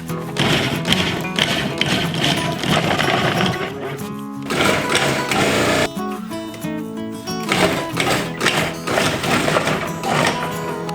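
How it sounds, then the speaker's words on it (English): A food processor fitted with a grater attachment shreds chunks of taro (kalo) root for a Hawaiian kulolo pudding, giving a loud, continuous mechanical whir and rattle with brief dips in intensity. "Prep the processor with a grater attachment. Grate all of the kalo root chunks."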